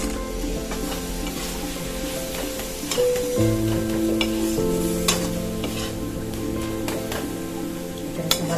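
Soya chunks and masala being stirred and fried in a pan, with a loud, steady sizzle and repeated scraping stirs close up. No voices.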